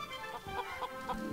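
Game chicken in a Family Guy video game clucking in a quick run of short, rhythmic clucks, fairly clear and near, with no speech over it.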